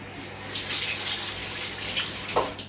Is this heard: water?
yes